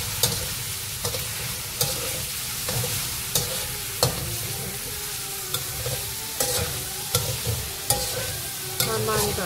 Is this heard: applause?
no